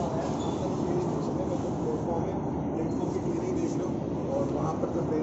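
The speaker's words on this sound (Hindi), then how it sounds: "देखिए अहमदाबाद न्यू दिल्ली राजधानी की entry in new Delhi railway station, platform number 1 Ahmedabad राजधानी।" The Ahmedabad–New Delhi Rajdhani Express pulls into platform 1 at New Delhi railway station, heard as a steady, dense low rumble of rolling carriages and station noise that holds evenly throughout.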